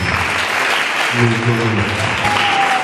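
Guests applaud for the bride at a live wedding ceremony, a loud, steady wash of clapping running throughout, with voices and some tonal sound from a mic or music beneath it.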